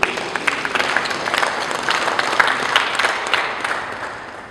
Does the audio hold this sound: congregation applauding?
yes